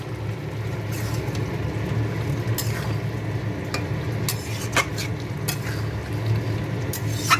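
A jackfruit and prawn curry is stirred in a pan: a low, steady simmering sizzle under scattered scrapes and clinks of the spoon against metal.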